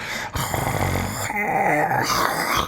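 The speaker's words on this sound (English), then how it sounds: "growl and a bit of movement" A creature growls amid shuffling movement, used as a sound effect in a Dungeons and Dragons tabletop game. A low, rumbling snarl runs steadily and loud throughout, with brief rustles and yips mixed in.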